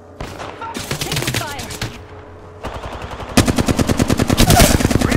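Apex Legends video game gunfire, with rapid automatic bursts, a short pause, then a loud, fast, evenly spaced volley that runs to the end, under occasional in-game voice callouts.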